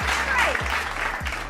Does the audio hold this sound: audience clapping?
yes